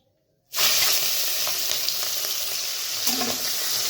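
Prawns coated with turmeric, Kashmiri chili powder and salt drop into hot oil and burst into a loud, steady sizzle that starts abruptly after a brief silence and continues alone with faint crackles.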